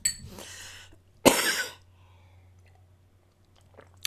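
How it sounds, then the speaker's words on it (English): A person coughs twice close by, short harsh bursts separated by a pause, followed by quiet breathing and a faint sound at the end. "my chronic cough there."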